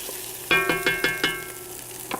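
Chana masala cooks in a pan while a utensil strikes the pan in a run of six or seven ringing metallic clinks at an even pace, over a faint background sizzle.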